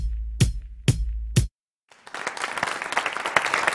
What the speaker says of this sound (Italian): un grande applauso alle nostre ragazze, alle nostre queen